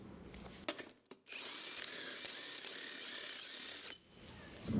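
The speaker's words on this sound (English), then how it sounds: "use your 21mm deep socket again to loosen the bolts the rest of the way" A power tool with a 21mm deep socket loosens the wheel bolts on a lifted 2014 Ford F150, giving one steady, close whirring run of about three seconds between brief clicks and handling noises.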